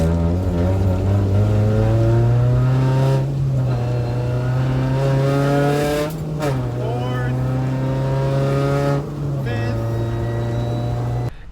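Honda Civic with a rebuilt D16Z6 transmission fitted with short gears and a limited-slip differential, driven on city streets: a loud, droning engine note that rises through the gears, dips at each shift and climbs again.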